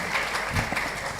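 Audience applause at the close of a business law conference session, a steady wash of clapping throughout with a slight swell near the middle.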